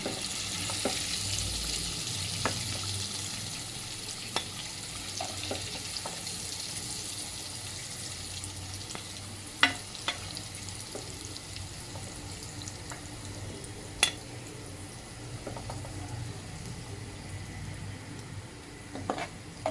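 Soyyam sweet dumplings deep-frying in oil, a continuous close crackling sizzle with occasional sharp clicks of a utensil against the pan, steady throughout with no talking.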